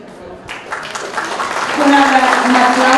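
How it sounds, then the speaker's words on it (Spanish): Crowd applause swells from scattered claps into a loud, dense ovation at a public science talk held in a bar, with voices mixed in underneath. "Un aplauso."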